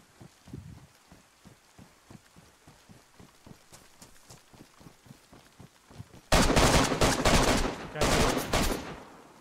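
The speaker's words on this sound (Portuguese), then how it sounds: "Ele tá atirando." Rapid bursts of automatic gunfire in an online survival video game during a base raid, starting as faint distant pops and then erupting into loud, sustained close volleys in the final seconds.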